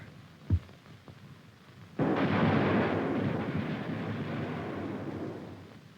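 Tube artillery fires a single heavy round, a deep booming blast followed by a long rolling rumble that slowly fades, preceded by a short, sharp thump.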